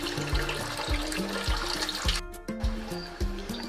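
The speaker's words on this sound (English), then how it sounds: "The rice out to give them a good clean. Just need to rinse them out for like couple times." Rice being rinsed with water in a pot in a home kitchen: sloshing, swishing water with repeated splashy pours and trickles, close and moderately loud, no talk.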